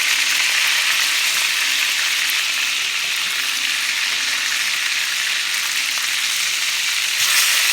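Hamburger steaks fry in a pan with a loud, steady, close crackling sizzle that continues without a break.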